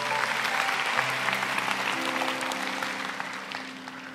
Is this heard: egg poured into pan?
no